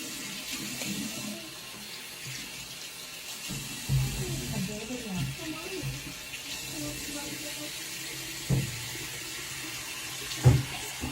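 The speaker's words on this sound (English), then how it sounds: "I actually will do the mask, and then I will rinse off the mask" Tap water running into a sink while a face mask is rinsed off, a soft steady splash with occasional louder splashes from hands in the water, a voice talking over parts of it.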